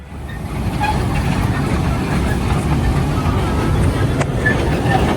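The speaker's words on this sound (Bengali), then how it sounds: "এই দেখো লাইভ টয় ট্রেন তোমাদের সামনে দেখাচ্ছি।" A toy train runs through a park near Kolkata, a steady low rumble of wheels and motor holding loud and constant throughout, with broad noise beneath and a faint high squeal near the end.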